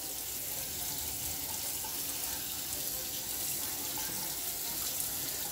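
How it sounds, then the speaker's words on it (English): Kitchen tap water runs in a steady, even hiss, close and continuous for several seconds with no talk over it. "Turn on the water."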